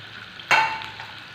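Tomato pieces drop into a hot pan with a sudden sharp sizzle that fades into a light, steady frying hiss, close by with no talk.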